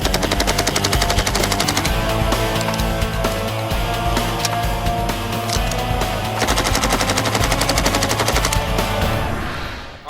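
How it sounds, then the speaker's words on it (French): An Uzi submachine gun fires in long, sustained automatic bursts, loud and continuous for about ten seconds before cutting off, with the dense rapid rattle of shots filling the whole stretch. "Grant se prépare à tester l'Uzi."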